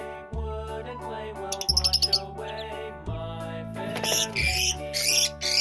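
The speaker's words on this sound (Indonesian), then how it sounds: "ternyata burung labet yang betina" A female labet bird calls close by in a series of bright chirps and short tweets, some fast and stuttering, over a low repeating mechanical hum in the background.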